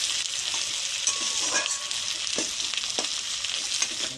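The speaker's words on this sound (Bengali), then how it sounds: "রাখা পেঁয়াজটা এবার আমি কড়ার মধ্যে দেব। পেঁয়াজটা দেওয়ার পরে লাল লাল হবে" Chopped onion frying in oil in a kadai, a dense close sizzle with occasional stirring scrapes throughout, no talking.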